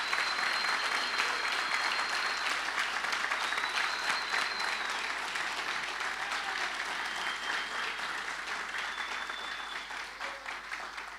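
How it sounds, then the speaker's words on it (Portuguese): Studio audience giving a sustained round of applause for a guest, dense, even clapping with a few whistles, gradually thinning toward the end. "Vamos dar uma salva de palmas"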